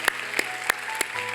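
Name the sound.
congregation applauding in church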